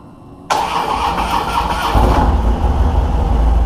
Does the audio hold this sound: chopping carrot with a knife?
no